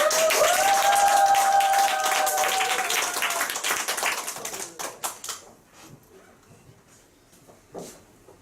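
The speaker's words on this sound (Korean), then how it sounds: "변호사님 앞으로 모실 때 큰 박수 부탁드리겠습니다" Brief burst of audience clapping at a Nu Skin business group meeting's book-reading session, welcoming a lawyer to the front, mixed with a sustained tone and then thinning into scattered claps that fade away.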